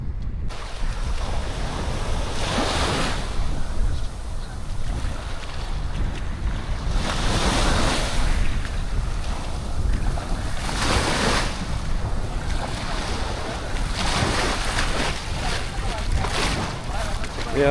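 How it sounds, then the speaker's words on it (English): Ocean waves crashing onto a Playa del Carmen beach strewn with sargassum seaweed, loud and close, with repeated surging breaks every few seconds over wind noise. "the waves crashing is really nice"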